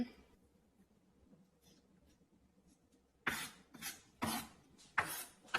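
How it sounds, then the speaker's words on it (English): A knife chops garlic into small pieces on a cutting board with a handful of sharp, close taps in quick succession, following a few seconds of near silence. "Let's chop this into small pieces"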